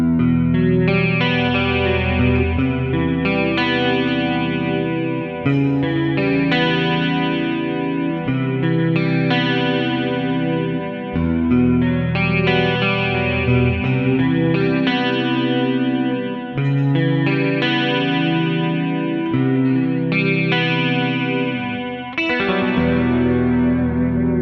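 An Ibanez RG550 electric guitar plays on its neck pickup alone through effects, giving a loud, continuous, distorted and chorused tone with sustained chords and ringing notes throughout.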